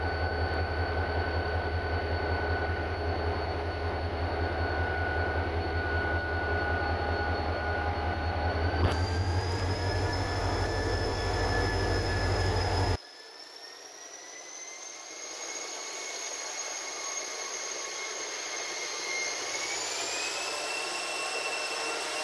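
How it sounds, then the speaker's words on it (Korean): A Korail Mugunghwa passenger train with a diesel locomotive runs through Hallimjeong station, a loud steady rumble and whine that cuts off abruptly, leaving a quieter rising hum and faint rail noise afterward; no voices. "7시 47분에 도착하는 포항발 순천으로 가는 무궁화 1944 열차입니다."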